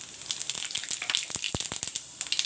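Cumin seeds (jeera) sizzle and crackle in hot oil in a pan, a close, busy run of sharp pops and spits over a steady frying hiss.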